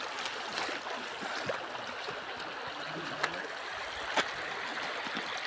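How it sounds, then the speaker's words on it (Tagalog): A small stream flows steadily in the outdoors, its soft, continuous trickle and gurgle heard up close with a few faint splashes and knocks. "Sapa."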